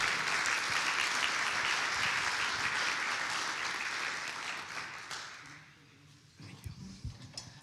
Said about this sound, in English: Please give a round of applause here.